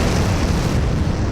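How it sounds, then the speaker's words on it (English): A loud, sustained explosion rumbles through an audio drama, a dense broadband roar filling the whole moment with no pause or talk. "there was suddenly a loud explosion above"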